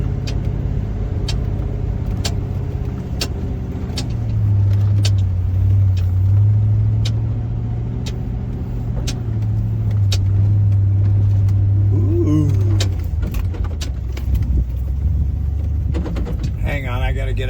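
A 2025 Ford Bronco with a V6 turbo crawls off-road at low speed in first gear, its engine a steady near rumble with slight revving swells, mechanical clunks over the terrain, and a person talking over it.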